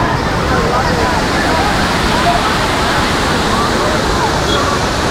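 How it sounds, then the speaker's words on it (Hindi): Water released from a dam near Bangalore rushes and roars continuously, a dense, loud, steady wash like a waterfall with no pauses. "इधर से वो पानी, डैम का पानी आ रहा है।"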